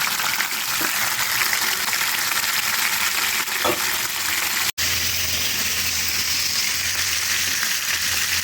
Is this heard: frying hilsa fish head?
yes